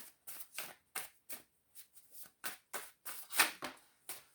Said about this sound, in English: We'll keep shuffling. We'll get 2 more.